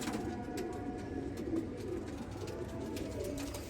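Pigeons in a loft give soft, repeated cooing over a low, steady background hum, fairly faint and with no talking.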